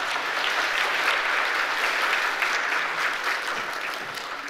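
A congregation at a church service applauds an appointment, a continuous even wash of clapping from many hands, moderately loud and steady before easing slightly at the end.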